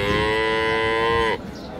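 A Friesian dairy cow at the Raniganj cattle market in Dinajpur gives one long, loud, close moo with a steady tone, followed by quieter market background noise.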